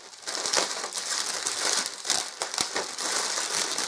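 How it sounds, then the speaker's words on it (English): Packing tape is peeled and crinkled off a Sega Mega Drive 2 console box, a steady crackling rip with several sharper crackles, close and fairly loud with no talking. "take this tape off"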